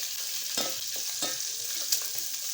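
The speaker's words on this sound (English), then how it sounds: "So you need to fry this till it turns golden brown." Lean pork dry-fries in a pan toward golden brown, a soft continuous sizzle broken by several scraping stirs of a utensil, close and moderately quiet with no voices.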